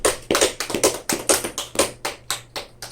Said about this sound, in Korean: 축하 박수 한번 칩니다.